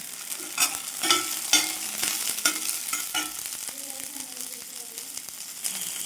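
Chutney ingredients with tamarind sauté in a pan, giving a close sizzle with several sharp stirring clatters early on, then a calmer hiss with faint tonal clinks toward the end; no talk.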